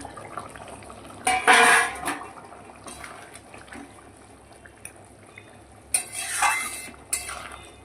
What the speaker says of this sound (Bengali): দেখো দেখো ঝোলটা ফুটে উঠেছে এবার আমি মাছগুলোকে দিয়ে দিচ্ছি